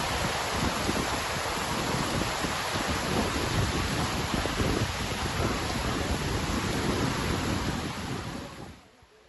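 Heavy rain pours steadily over Libauo Lake in Sablayan, a dense, constant roar of close downpour with no voices, fading out near the end.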